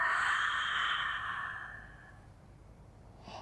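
One long, soft exhale of Pilates diaphragmatic breathing, a breathy hiss that fades out over a few seconds, with a faint breath near the end.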